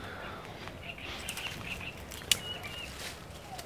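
Birds flapping their wings outdoors in the evening, soft fluttering bursts with a sharp flap near the middle, faint against a quiet background.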